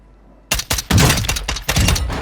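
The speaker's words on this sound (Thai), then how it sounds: "ยิงอย่างรัวเลยปืนนี้ นิ่งด้วยนะ" A marksman rifle in Call of Duty Warzone 2.0 fires a rapid string of about six loud, sharp shots after a brief quiet start, close and uninterrupted by voices.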